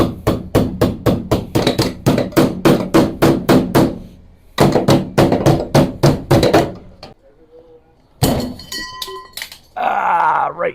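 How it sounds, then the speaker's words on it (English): Repeated sharp metallic blows from a body hammer on a steel body panel during dent repair, fast evenly spaced strikes in two bursts, then a pause with faint rustling and a few closing clanks and scraping. "Finish with the body hammer."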